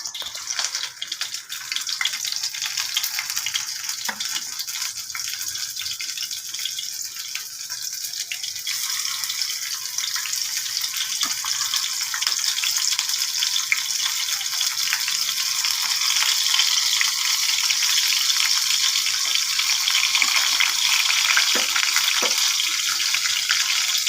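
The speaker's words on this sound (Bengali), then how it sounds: "বড়া দিয়ে দিলাম, সুন্দরভাবে বড়াগুলো ভাজা হচ্ছে।" Fish oil fritters (bora) fry in a pan of hot oil, giving a steady, close hissing sizzle with small pops that runs without a break and without speech.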